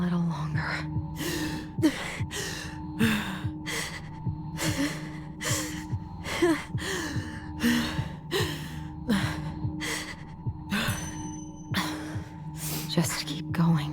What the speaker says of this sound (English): I just need to breathe in and out.